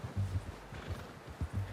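Horse hooves clip-clop in Red Dead Redemption 2, a few heavy, close thuds at an uneven walking rhythm with no talk over them.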